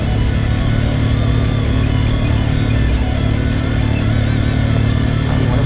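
Motorcycle engine braking while rolling downhill over loose gravel and stones on a rural tourist route, with a steady loud engine drone and rattling crunch continuing throughout.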